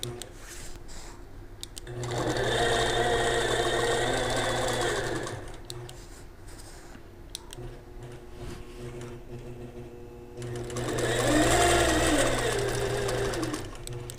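A sewing machine runs in two fast, buzzing bursts while stitching free-motion quilting fills on a miniature quilt, with a quieter gap between where a person talks.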